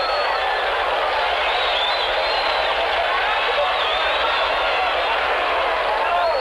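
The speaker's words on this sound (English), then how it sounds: "Cheering and yelling going on down the way as they approach the cars." A large roadside crowd cheers and yells as the president and his wife pass by car, forming a continuous dense wall of distant voices and whoops that stays steady and loud throughout.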